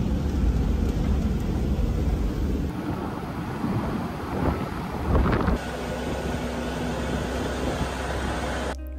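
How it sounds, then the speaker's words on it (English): Strong wind roars steadily across the microphone near a volcano crater's edge in Ecuador, with loud buffeting gusts, a deep continuous rumble and brief surges, and no speech. "Hopefully there won't be too much wind because it's pretty windy right now"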